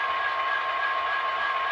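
A model Santa Fe hopper train runs on its layout, giving a steady, even rolling hum with a faint high whine throughout, no talk over it.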